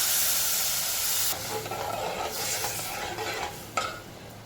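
Vermicelli simmering with milk and sugar in a pan as it is stirred, a broad steamy hiss that drops partway through and gives way to soft scraping stirs and a brief clink.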